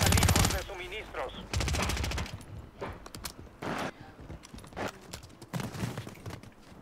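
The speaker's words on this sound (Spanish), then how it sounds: "Están corriendo los disparos, están corriendo los disparos." Gunfire in the Warzone video game, quadruple Resurgence mode, bursts of rapid automatic shots and single cracks scattered through the clip, fairly close, mixed with footsteps and players' voices talking over it.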